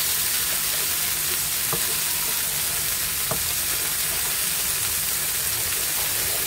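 A hot pan deglazed with water after cooking turkey with sun-dried tomatoes hisses in a loud, steady, dense sizzle that persists throughout, with a couple of faint clicks.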